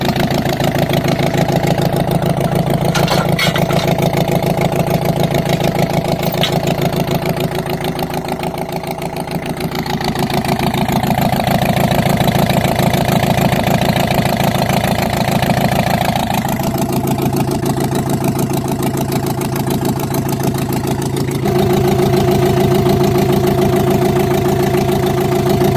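A Komatsu dozer's diesel engine runs steadily after ten years unused, a loud close-up rumbling idle with a faint rise and fall in pitch and throttle, continuous throughout with no voices.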